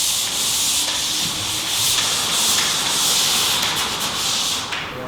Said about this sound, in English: As you can see, I run my pole sander at 45.